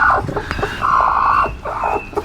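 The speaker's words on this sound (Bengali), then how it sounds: "এই যে আমার এক একটা মুরগি বাতে দিছি দেখেন ডিম দিয়ে" A pet hen sitting on eggs to brood gives several close, drawn-out clucking calls in short bursts, loud and alone.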